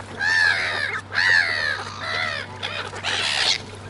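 A jackdaw calls outdoors with a series of loud, close, harsh nasal caws in quick bursts over about four seconds, with a steady low hum in the background.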